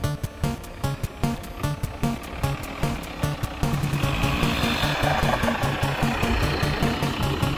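Mitsubishi Outlander engine revved under throttle, near and fairly loud, a choppy pulsing run at first that rises into a denser, steadier roar partway through.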